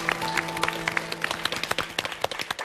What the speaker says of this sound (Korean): 박수로 오늘 환영합니다.